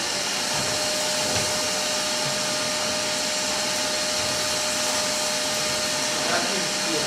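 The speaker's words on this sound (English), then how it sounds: "Vacuum cleaner came through." A vacuum cleaner runs continuously, a loud, even whooshing roar with a thin, steady whine held over it and no pauses.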